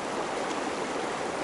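Steady rush of flowing water from the Williams Fork River in Colorado, a continuous broadband stream sound close by and fairly loud, with no voices over it.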